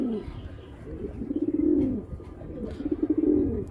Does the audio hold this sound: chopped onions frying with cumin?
no